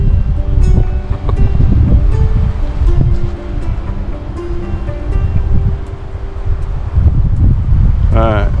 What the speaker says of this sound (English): Alright, wind's picking up pretty good.